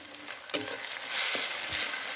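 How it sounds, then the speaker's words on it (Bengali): Grated onion and garlic sizzle in hot oil, with a sharp clank of a spoon against the pan near the start. Bursts of frying rise and fall while being stirred. "পেঁয়াজটাকে অল্প নেড়ে চেড়ে ব্রাউন করে নিয়ে ওর মধ্যে দিয়ে দেব গ্রেট করে রাখা রসুনটা"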